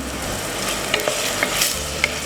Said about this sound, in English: this is going to cook with the onions until the onions becomes translucent